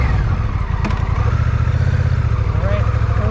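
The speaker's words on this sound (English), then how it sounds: "We're in neutral. Just gonna hear the bike." A Honda cruiser motorcycle, one of a Rebel 1100, Shadow 750 or Fury 1300, sits idling in neutral with a steady, close, low rumbling throb and no revving throughout.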